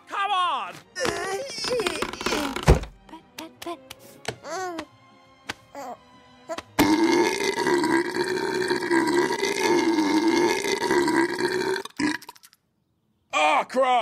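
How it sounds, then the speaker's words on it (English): A baby's burp within an animated short, heard amid cartoon voices, babbling and whiny baby sounds, with talk and music-like tones filling much of the scene. "don't forget to burp him"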